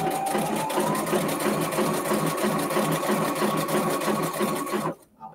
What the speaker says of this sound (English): And I'm going to also use my stitch restart button. So it restarts at the beginning of the stitch.